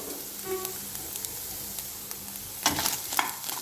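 Butter sizzling in a pan for buttered shrimp, a soft continuous frying crackle with a burst of louder stirring scrapes near the end, no talk.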